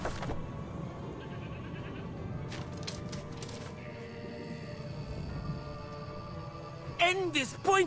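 In-game goat bleating, a few short wavering bleats rising near the end over a steady bed of game music and ambience, with speech underneath.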